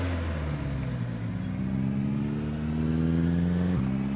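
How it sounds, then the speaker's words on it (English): A car engine in Project Zomboid drones loudly and continuously at close range, its pitch holding and slowly climbing as it revs through a burnout, with no talk. "I'm going to do burnouts and try and clear out the main area"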